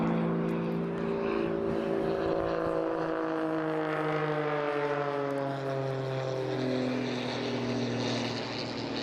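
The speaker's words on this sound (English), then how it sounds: "When you get up and close and personal to a pit, it really is a very, very small aircraft." Pitts S-2S aerobatic biplane with a 300-horsepower, 8.5-litre engine, heard as a loud, steady propeller drone with shifting pitch as the small aircraft passes close by, continuous throughout.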